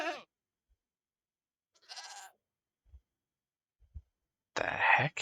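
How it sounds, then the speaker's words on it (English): A Minecraft goat bleats in short separate bursts, a couple of faint brief calls and then a louder, harsher bleat near the end, with silence between them and no talking. "Is that like some sort of hell goat?"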